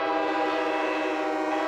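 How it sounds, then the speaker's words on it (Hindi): A big cartoon ship's horn sounds like a train whistle in one steady, sustained, fairly loud blast with no talking. "देखो दोस्तों वहाँ पर देखो, एक बड़ा जहाज जा रहा है। इसकी आवाज बिल्कुल हमारी सीटी जैसी है।"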